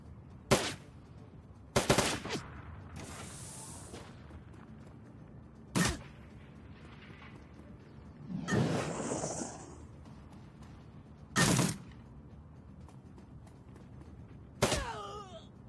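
Gun turret firing in the video game Shadowrun: Dragonfall, several separate sharp bursts of gunfire spaced a few seconds apart, with whooshing effects and faint background noise in between.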